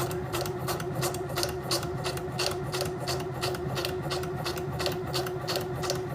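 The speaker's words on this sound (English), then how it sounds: "Back stitching, and then here we go." A sewing machine back-stitching on a craft project, a steady fast clatter of needle strokes with a constant motor hum, close and continuous for several seconds, with no voices over it.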